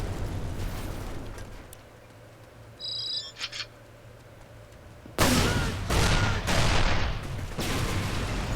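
Rocket-propelled grenade blasts levelling buildings in the Mercenaries 2 video game: a quiet stretch with a brief ringing tone, then a run of loud, heavy explosions booming one after another.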